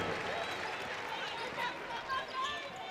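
Crowd noise at a Big Ten women's basketball game, Rutgers at Maryland, rising into a steady cheer after a layup, with squeaks and bounces from the court mixed in and voices talking under it.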